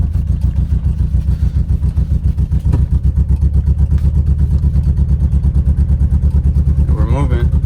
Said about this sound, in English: we're going on our first official drive